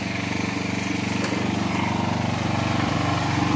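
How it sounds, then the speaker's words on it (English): Lawn mower engine cutting grass at a realtor investor property cleanup, a loud steady close drone with a slight rhythmic pulse throughout. "Started doing the grass cut."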